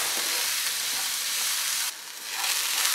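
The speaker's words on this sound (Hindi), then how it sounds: "इन सब्जियों को हमने 2 मिनट के लिए यहाँ पर स्टर फ्राई कर लिया है बहुत तेज आंच पे" Vegetables stir-frying in a pan over very high heat, a loud continuous sizzle that dips briefly and then swells again, with no voices.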